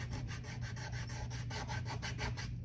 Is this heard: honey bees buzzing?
no